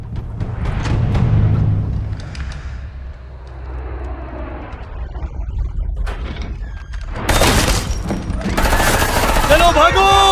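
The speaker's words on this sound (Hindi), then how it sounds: "ये गन फाइट है।" A gunfight in an action movie mixes rumbling engine noise and scattered gunshots, ending in sharp, loud bursts of gunfire and ricochets, while voices speak over the din.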